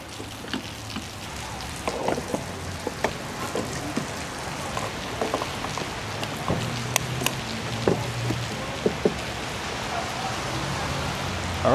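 Heavy rain in a cold, windy Southern California storm patters steadily over a broad hiss, with scattered sharper drops and taps standing out near the listener, no voices.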